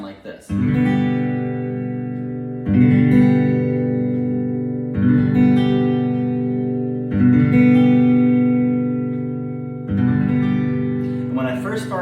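A guitar chord rings out clearly five times, each strum decaying before the next, close and clean with no buzzing.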